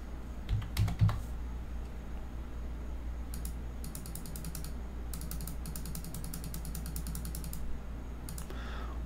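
CNC router fitted with a small bit carving wood, stepping over in fine passes: a steady low machine hum under bursts of rapid, dry ticking and clicking from the cutting, fairly close and continuous.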